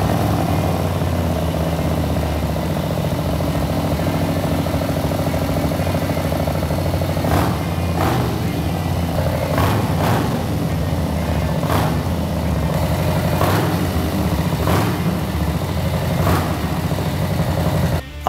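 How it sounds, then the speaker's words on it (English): Harley-Davidson Low Rider S Stage IV custom motorcycle with a Pisani 2-into-1 stainless exhaust, idling loud and steady with a deep throbbing rumble and a few sharp blips of the throttle, close by, no talk. "I think we can all agree this Pisani 2-into-1 stainless sounds epic."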